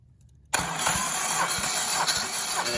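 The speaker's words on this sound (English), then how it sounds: "it's already cranking and we're building compression" A Honda K24 engine cranking over on a jumped starter solenoid, starting abruptly after a brief quiet moment, then a loud, steady rhythmic churning of the starter and compression pulses.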